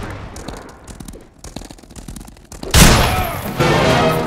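Gunfire in the Wild West shooter game Fistful of Frags: scattered sharp shots and thumps early, then a sudden loud burst of rapid, overlapping gunfire that sustains to the end.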